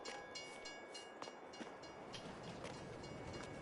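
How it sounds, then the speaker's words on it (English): A train in Farming Simulator 22 rolls in with a steady rumbling clatter of rail wagons and faint rhythmic clicks, moderately loud and continuous with no speech over it. "oh, train's coming."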